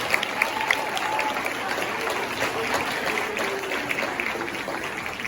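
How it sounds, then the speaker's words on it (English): A crowd at a high school girls' end-of-season sports banquet gives a coach a round of applause, a fairly quiet, steady wash of clapping heard from a distance. "how about a round of applause for Coach?"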